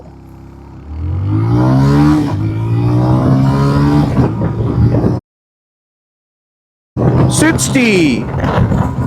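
A 125cc commuter motorcycle with a rear disc brake accelerates hard from a standstill toward 60. The engine sounds loud and close, and its note climbs through the gears. It cuts out to silence for a moment, then comes back still revving.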